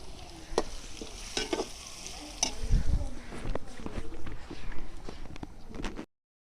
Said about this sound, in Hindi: 2 मिनट तक अच्छे से लहसुन के साथ प्याज को भून लेंगे।